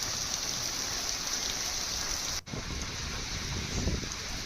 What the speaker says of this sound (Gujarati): ગુજરાતના અનેક વિસ્તારોમાં જ્યારે વરસાદ પડી રહ્યો છે